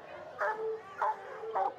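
A coonhound gives three evenly spaced, moderately loud baying barks, each a short whining, yelping call, close by over a quiet background.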